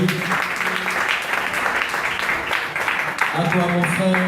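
A church congregation applauds together, a dense steady wash of clapping at close range, with singing or voices carrying over it near the end.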